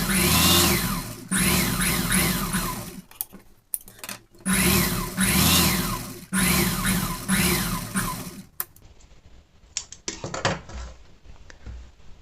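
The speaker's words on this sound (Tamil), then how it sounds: "இப்போ இந்த சைடு போட்ட மாதிரியே 2 தையல் போட்டுக்கலாம்." A sewing machine runs in repeated short bursts while stitching a blouse, its motor whirring loud and close with brief pauses between runs, then fading to lighter clicks and handling noise.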